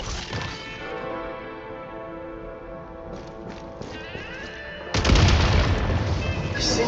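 Explosives detonating in the video game Genshin Impact: a sudden loud, broadband blast that swells into a sustained rumbling roar, heard over steady game music and ambience.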